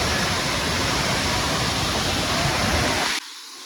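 Waterfall in a small forest near Ubud, Bali, roaring as a steady, loud, dense rush of falling water that cuts off abruptly near the end.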